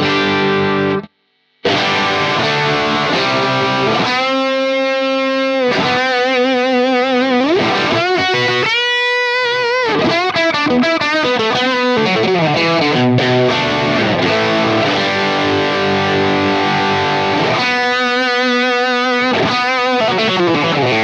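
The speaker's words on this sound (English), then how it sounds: "Now we're going to have a listen with a dirty amp. The Strat into a Plexi 100." Fender Stratocaster electric guitar through a dirty Marshall Plexi 100 amp, playing a continuous distorted passage of chords and wobbling, modulated lead lines, loud and up close after a brief pause near the start.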